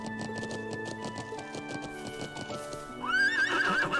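Horse hooves clip-clop at a steady galloping rhythm in the video game Trails of Cold Steel 2, with game music running underneath, then a loud neigh and whinny rises near the end.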